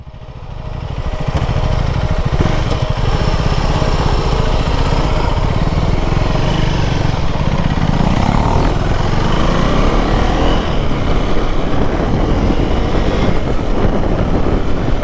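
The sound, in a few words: Yamaha R15 motorcycle riding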